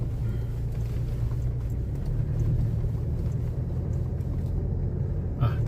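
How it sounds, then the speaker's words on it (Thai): A ten-wheeler truck near the Phu Du border crossing in Uttaradit, a low steady engine rumble and idling drone close by, with faint traffic noise and a short sharper sound near the end. "ออกไปสปปลาวสิบล้อนี่จะตรงไปหรือจะกลับรถ"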